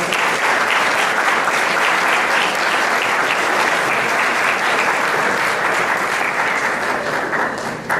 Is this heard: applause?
yes